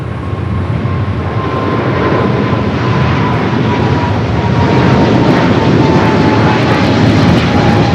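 A fixed-wing airliner landing on runway 25 left at LAX gives a steady, loud engine roar with a faint whine that holds throughout, continuous and close, with no talk.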